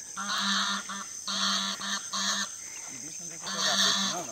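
Geese honking loudly in repeated bursts, several calls close together with short pauses between, fairly near.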